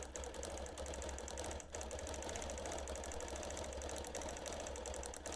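A quilting machine runs steadily while stitching a meandering pattern on a custom quilt, giving a continuous close mechanical hum with a fast, even stitching chatter and no voices.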